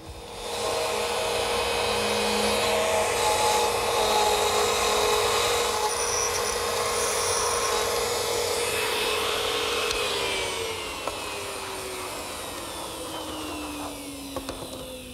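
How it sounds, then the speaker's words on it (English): A router cuts a mortise in a redwood arbor part held by a single screw, a steady high whine with grinding chatter that runs unbroken for about ten seconds, then slows and winds down as the bit drops off. "I'll remove the material using the same router setup I used earlier"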